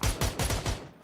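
Rapid bursts of gunfire in an online shooter game, four or five loud close shots in quick succession, then a brief fading tail.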